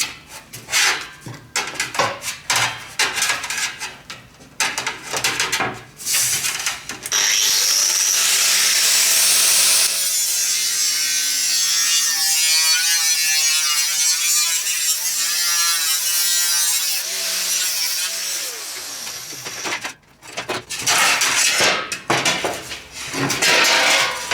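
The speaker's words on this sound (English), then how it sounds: "and then we can start putting some screws around the base." A power driver drives 20mm Phillips button-head screws into the timber base of a homemade sand muller, a loud whirring run lasting several seconds between shorter handling knocks and rattles, no talk.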